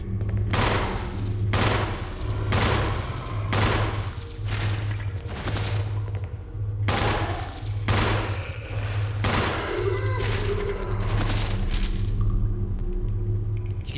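Repeated handgun shots in the survival horror game Resident Evil REmake, played on hard difficulty, fire in a steady rhythm roughly once a second, loud and close, over a low droning background hum.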